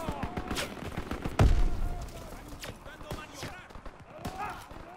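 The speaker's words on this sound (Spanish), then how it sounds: "Se oyen disparos. Muy peligroso." Gunfire in the World War II shooter Call of Duty: WWII, with a loud sharp shot near the middle and scattered lighter reports amid battle noise, while people talk over it.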